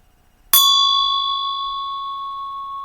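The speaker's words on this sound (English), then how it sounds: "I'm just going to ring the bell" A single meditation bell struck once, a bright metallic strike followed by a long, clear ringing sustain that fades very slowly, alone in a quiet room.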